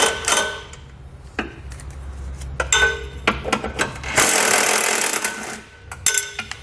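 A ratchet with a 16mm socket works on the bolts of a Curt trailer hitch receiver on a 2018 Infiniti Q50, giving loud, close metallic clicks and clatter in irregular bursts with a stretch of harsher grinding noise.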